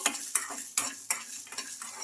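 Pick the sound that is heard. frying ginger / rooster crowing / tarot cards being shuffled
frying ginger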